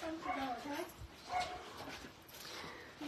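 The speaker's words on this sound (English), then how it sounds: "Mabel's still barking" A cocker spaniel barks and yips a few times at a distance, mixed in with people chatting nearby at a birthday gathering.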